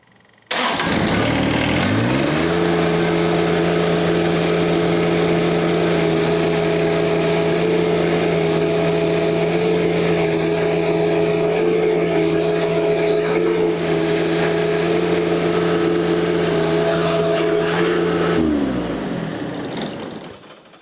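A John Deere 1025R compact tractor engine runs at full throttle after a throttle adjustment, a steady loud mid-pitched drone that rises in and holds evenly for nearly twenty seconds before dropping off.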